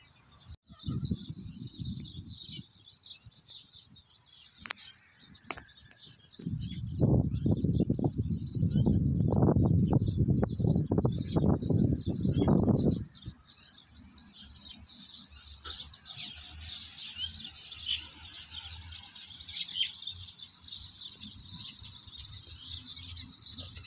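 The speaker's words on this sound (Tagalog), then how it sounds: "Daming ibon dito ah." Many small birds chirp and twitter continuously in the background, with a loud rustling burst partway through before the chirping carries on alone.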